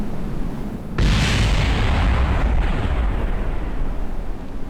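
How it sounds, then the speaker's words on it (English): A falling spacecraft is destroyed in Kerbal Space Program, a sudden loud booming explosion followed by a sustained roaring rumble that fades slowly, heard alone with no talking. "this is going to fall and going to be destroyed in a glorious explosion"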